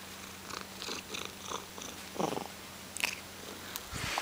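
A cat purrs close by in a workshop, a soft rhythmic rumble rising and falling in short pulses, with a few louder rustles and a light click near the end.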